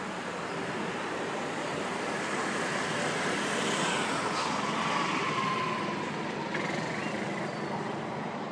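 An aircraft passes overhead under an evening sky, heard as a steady, distant, broad roar that swells slightly and then eases, with no voices.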